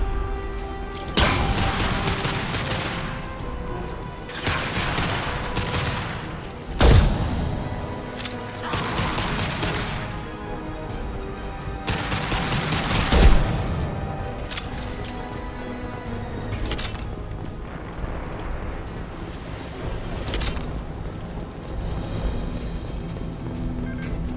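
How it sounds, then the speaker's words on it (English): Heavy gunfire aimed at tanks in the video game Mass Effect on Omega: repeated bursts of booming shots and impacts roughly every few seconds, loud and crashing, with sharper blasts standing out among the volleys. "Stay out of my way while I shoot the tanks."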